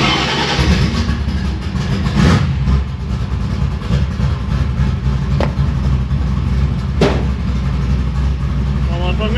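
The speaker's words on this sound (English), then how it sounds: "Two pumps of throttle, one turn of the key." A carbureted drag car at a street outlaws event at Calder Park, Melbourne, rumbles at idle after being started. Its deep, steady engine drone sits close and constant, with a few brief sharper accents along the way.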